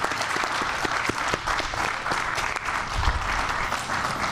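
An audience claps together at a Chicago affordable-housing investment event, a dense, steady burst of applause that holds evenly for a few seconds without voices.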